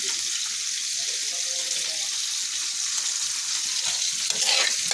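Greens cook in a pan with onion and chilli, giving a bright, steady hiss of frying. A louder rush of sizzle or running water swells near the end.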